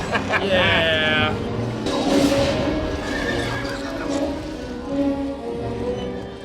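Horses in an Indiana Jones film action scene: a sharp, loud whinny, then clattering hoofbeats and a second neigh amid busy action noise, with people talking over it.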